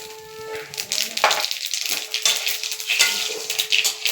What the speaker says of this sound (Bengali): এখন আমি তেলে জিরা ফোড়ন দেব।